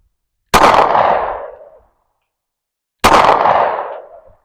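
Two loud, sharp pistol shots from a Smith & Wesson M&P Shield .40, fired about two and a half seconds apart, each followed by a short decaying outdoor echo, with no talking between them.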